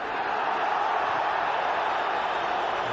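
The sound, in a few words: stadium crowd appealing for a handball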